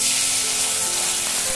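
Fish frying in hot oil for an Assamese fish curry, a steady close sizzle running without pause, with faint clinks of cooking in the background and no talking.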